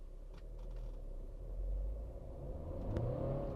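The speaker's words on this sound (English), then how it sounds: "now let's do a quick, not exactly a launch, but a quick drop from standstill" A Stage 1 tuned Tata Altroz diesel pulls away hard from a standstill, its wheels spinning, as a steady engine rumble builds and rises in pitch. Heard from inside the cabin, with no talk.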